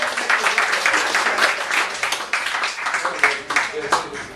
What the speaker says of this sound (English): Marc Zakarin, give him a round of applause